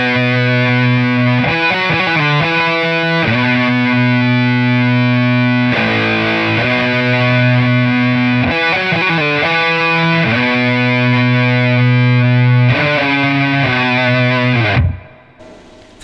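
Heavily distorted electric guitar plays a riff, sustained chugging chords with rhythmic stops and restarts, loud and upfront, ending abruptly near the close.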